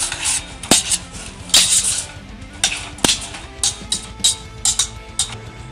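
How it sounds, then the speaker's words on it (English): Onions being stirred in a pot, with a utensil scraping and clinking against the pot in irregular, close, fairly loud bursts and taps, alone without talk. "we're gonna add the onion. Give it a little stir"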